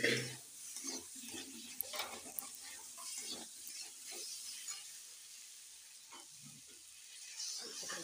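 Spiced masala with salt, turmeric and a little sugar is stirred and sautéed in a pan for chickpea ghugni, giving a soft sizzle under irregular scraping strokes of a spatula, fairly quiet and close.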